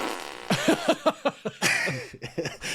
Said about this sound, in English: Do the fart sound again?